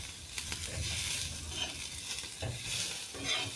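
Garlic and ginger roasting in a pan, a quiet continuous sizzle broken by several soft scrapes and stirs of a spoon, close by with no talking.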